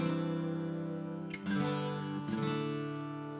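A sustained, harmonically rich Mixolydian chord progression with two clear chord changes, played steadily with no talking.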